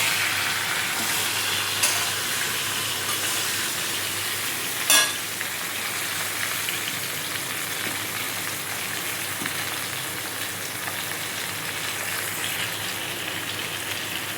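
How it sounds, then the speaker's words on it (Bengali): Jaggery syrup for sweet mango pickle bubbles and hisses steadily in a pan, with one sharp clink of a spoon against the pot breaking the even, close simmering sound. "এই একসঙ্গে এটা একটু নেড়ে চেড়ে ওর মধ্যে দিয়ে দেবো"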